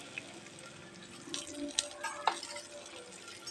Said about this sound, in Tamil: இந்த வெங்காயமும் இந்த பாருங்க பூண்டும் இதை நல்லா போட்டு வணக்கிக்கிறோம்மா